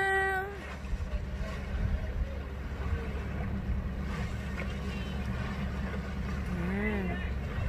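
A pirate-themed tour boat's engine drones steadily on open water with wind buffeting the microphone, while voices call out and chatter over it.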